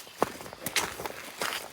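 Footsteps crunching across gravel mining tailings at a gold prospecting site, a few uneven steps close to the microphone, with no voices over them.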